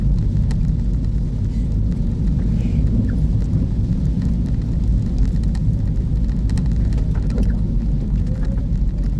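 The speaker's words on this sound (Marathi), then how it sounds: "मस्त पाऊस आलेला आहे चांगला" Heavy monsoon rain falls during a road trip, a loud, unbroken rushing wash that stays constant throughout as if pouring around a sheltered spot, with no speech.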